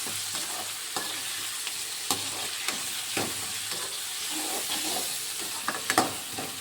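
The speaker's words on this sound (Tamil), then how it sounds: "தக்காளி வெங்காயம் நல்லா தொட்டு கிரேவி மாதிரி வரணும். அந்த அளவுக்கு நம்ம நல்லா வதக்கி எடுத்துக்கலாம்." Tomatoes and onions frying in a pan for a bitter gourd gravy, a continuous loud sizzle with repeated scraping and knocking from a spoon stirring every second or so, no talking.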